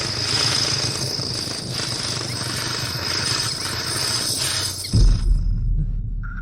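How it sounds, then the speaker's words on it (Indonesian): An electric drill bores into hard military glass, a continuous loud grinding buzz with a high whine that runs steadily for about five seconds, then stops abruptly, leaving a low thump and quiet. "Kamu pikir bisa mengebor ini dengan bor listrik?"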